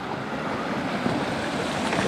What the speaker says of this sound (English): We came up on a really cool waterfall.